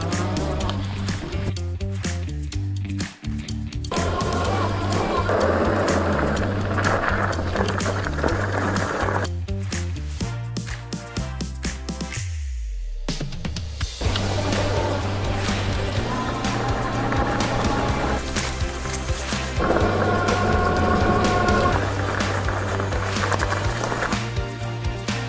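Electric bike rolling over rough off-road trails, with a constant loud rumble and rattle of tires and frame, shifting in tone as the terrain changes, close and continuous for the whole stretch with no talking.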